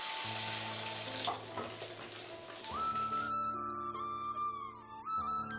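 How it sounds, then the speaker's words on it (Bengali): Cracked eggs fry in a pan on a home kitchen stove, a steady sizzle and crackle of hot oil running throughout alongside a sustained tonal hum, with no one talking. "তা মনে করলাম আজকে ডিমগুলো ভাজা করে ফেলি।"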